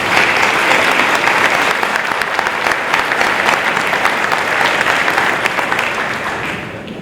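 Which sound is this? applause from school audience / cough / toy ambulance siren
applause from school audience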